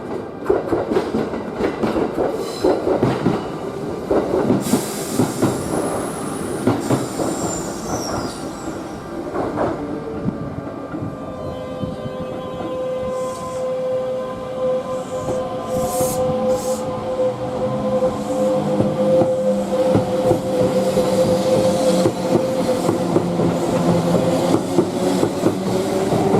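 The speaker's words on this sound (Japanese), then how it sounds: "A local train bound for Isenakagawa is arriving at track 1." A Kintetsu local train pulls into Nabari station on track 1 with steady rumbling, clacking wheels and drawn-out high squeals of braking wheels, loud and close, with a few faint chimes.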